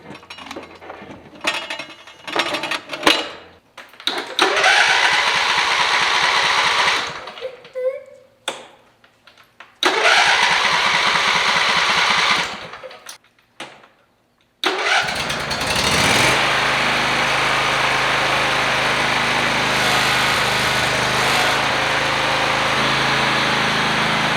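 A used walk-behind lawn mower engine sputters through several short start attempts with brief pauses between them, then catches and settles into a loud, steady running drone. The engine is close by, and no one speaks.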